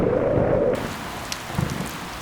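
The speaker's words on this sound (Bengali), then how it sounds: "বাইরে বৃষ্টি হচ্ছে" Cartoon rain falls steadily outdoors during a night of lightning, a continuous hiss of drops with a few faint splashes and knocks, alone without any voices.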